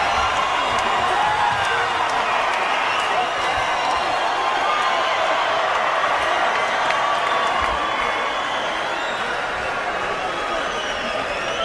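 A hometown boxing crowd in a packed arena roars and cheers continuously after a twelve-round fight, loud and sustained with whoops rising above the din.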